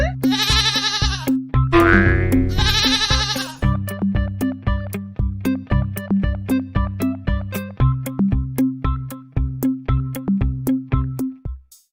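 A cartoonish bleating goat sound set to an upbeat musical tune, with bright repeated bleats over a bouncy, boinging rhythm that ends abruptly.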